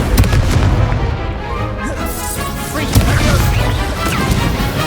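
Spell-casting effects in Hogwarts Legacy on PS5 fire in a dense, loud run of crashes, booms and impacts, with fiery blasts and icy hits overlapping continuously and one sharper bang near the three-second mark.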